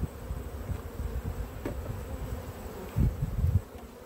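Many honey bees buzz in a low, continuous drone that swells briefly near the end, close at a hive and without any voices.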